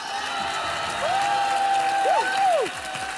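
Audience applause and some cheering for drag queen contestants on a charity game-show set, steady clapping filling the room while a bright sliding whistle-like tone rises and falls over it.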